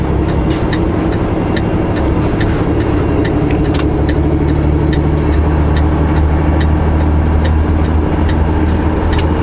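A heavy highway truck pulls away in 11th gear, its deep diesel drone loud and steady throughout, with faint rhythmic ticking riding over the low rumble.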